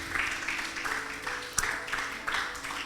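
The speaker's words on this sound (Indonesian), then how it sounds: "Berikan tepuk tangan bagi Allah kita yang" Church congregation at a teaching service claps in a soft, patchy burst, moderately distant and uneven, with a sharp knock partway through.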